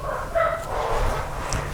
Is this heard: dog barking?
yes